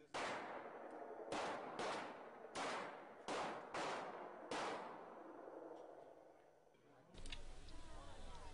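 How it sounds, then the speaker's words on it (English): Glock semi-automatic pistols fired on an indoor police training range: about six sharp, loud reports spaced roughly a second apart with echoing decay, then a different burst of noise near the end, voices faint underneath. "Training began with the handling, loading, and firing of Glock semi-automatic pistols."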